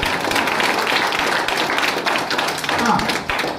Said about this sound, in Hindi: अब इन दोनों में से केवल एक के लिए ताली बजाना है